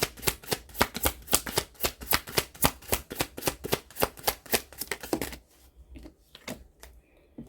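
A close, steady run of rapid riffling snaps as a deck of tarot cards is shuffled by hand, then slower, scattered card taps as it settles, with no talk over it.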